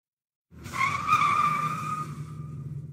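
In a staged radio-drama scene, a taxi pulls up and stops with a sudden tire squeal, then a sustained screech as the car brakes hard, then the engine rumbles on after silence.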